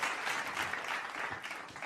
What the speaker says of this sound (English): So let's give everybody, including yourself, a round of applause.